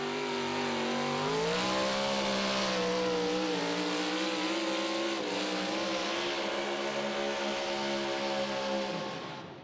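A Pro Modified 4WD pulling truck roars at full throttle on a dirt track in Wheatland, Missouri, its engine note loud, sustained and close, pitch wavering as the load drags, fading slightly at the end.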